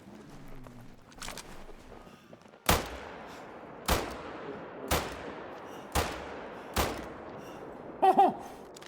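Hunting rifle shots from the Call of the Wild hunting game ring out as five sharp, loud cracks about a second apart, each with a short fading tail, over a quiet background with no speech.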